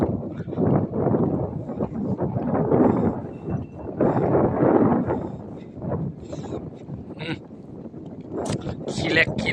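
Strong wind sweeps across an open rice field, a continuous rushing buffet on the microphone that rises and falls, with someone talking over it throughout.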